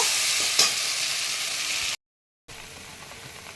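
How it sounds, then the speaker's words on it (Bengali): Mustard, poppy seed and cashew spice paste with green chilli frying in hot oil, a steady bright sizzle with a brief stirring clatter, cut off by a short gap of silence before the sizzle resumes more softly. "এবার আমি মশলাটা একটু ভেজে নেব"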